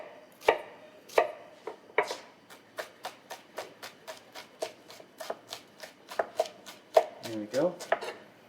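A knife finely dices shallots on a chopping board, close up: a steady run of crisp, evenly spaced chops, about two or three a second, with no talking.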